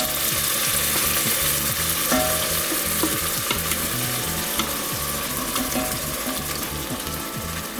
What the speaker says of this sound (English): now I am going to add some stewed tomatoes